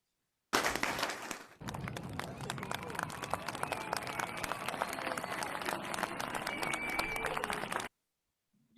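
An audience at a Toastmasters club meeting claps and applauds together in a dense, sustained wave that cuts off abruptly, with no talk over it.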